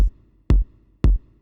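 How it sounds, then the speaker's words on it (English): Three punchy kick-like thumps with a bright attack, a four-on-the-floor beat played with note repeat on Synido K25 drum pads, evenly spaced about half a second apart, close and loud. "use the note repeat function on the K25 to play a 4 to the floor beat"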